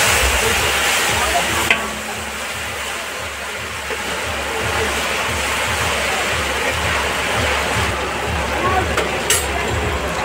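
Steady frying sizzle of ginger paste and dried chillies in a pan with cumin, a continuous hiss of moderate loudness under a speaking voice.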